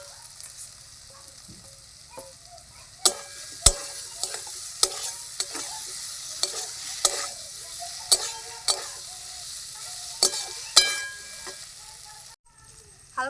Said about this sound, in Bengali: আলুগুলো দিয়ে দেবো ভেজে রাখা।